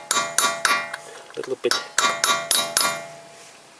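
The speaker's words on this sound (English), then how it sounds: "I insert my tool in here and then hammer" Sharp metallic hammer strikes drive a tool into a locking dent on a Toyota Corolla drive shaft, about nine ringing clanks in two bursts with a brief softer pause between, close and loud.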